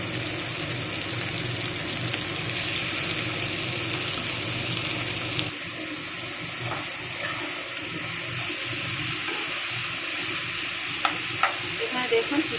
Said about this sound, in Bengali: আর হালকা করে একটু ভেজে নেব চিকেনগুলোকে